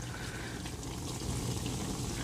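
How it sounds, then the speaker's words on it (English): Water rushing through a 100 ft auto-retract hose on a Giraffe Grandfalls Pressure Washer Pro, a steady soft gurgling flow heard up close and at a low level. "I hear it flowing, so it should just be a matter of time before it works its way all the way through that 100 feet of hose"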